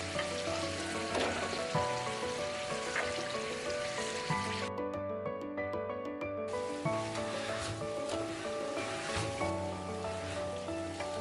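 Slices of lamb sizzling in a pan as they are pre-cooked for an oven kebab, a steady loud hiss and crackle lasting over ten seconds with a brief quieter stretch in the middle, accompanied by background music and no talk.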